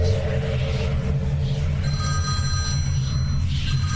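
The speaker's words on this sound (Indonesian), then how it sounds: "Lalu tiba-tiba teleponku berdering. Ada suara telepon." A telephone bell rings over a steady low rumble, its bright tones fairly faint and distant, with no voices.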